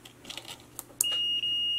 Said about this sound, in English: and you can hear the buzzer